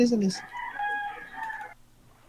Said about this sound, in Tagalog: Ba't may manok dito? May manok dito.